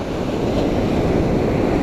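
Strong headwind on a Karasu fishing shore buffets the microphone with a continuous loud rush and rumble, and no voices are heard.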